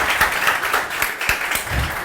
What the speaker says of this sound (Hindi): ताली बजाओ अच्छी वाली